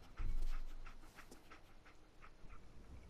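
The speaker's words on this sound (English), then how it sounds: "Get the scent, boy. What a good dog." Dogmeat, the dog in Fallout 4, pants in quick, soft, rhythmic breaths close by, with a brief thump at the start and no talking.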